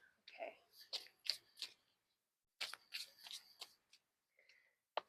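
A deck of cards being shuffled by hand in a quiet room, with bursts of crisp riffling and flicking that come in clustered runs, a pause, then more riffles and a final sharp snap.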